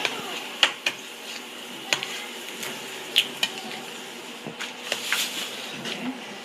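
Macaroni and cheese with two freshly added eggs being stirred in a pot: scattered spoon clinks and scrapes against the metal, irregular and fairly close, over a soft, low background hum with no talk.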